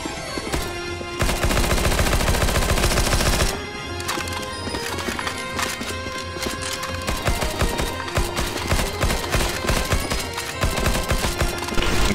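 Dense, relentless gunfire in CS:GO zombies mode, with overlapping rifle shots, clattering effects and game noise continuing loud and unbroken throughout.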